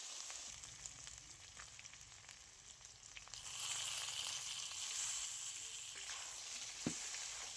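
Potato, ginger and seeded banana fry in spiced oil tempering, giving a faint, even sizzle that swells a little louder midway, with a single soft knock near the end and no voices.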